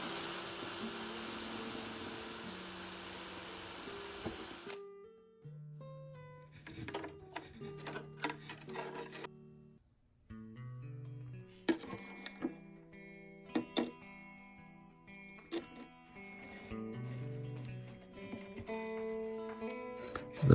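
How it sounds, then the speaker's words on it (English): A drill whines steadily as it bores a hole for a ground wire in an acoustic guitar being converted to an electric bass, heard close and alone for several seconds before it stops. "let's drill for a ground wire."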